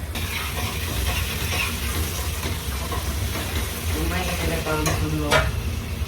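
Homemade pizza pasta sauce sizzles and bubbles in a pan on the stove, a steady close frying hiss with occasional stirring clinks and brief faint voices in the background.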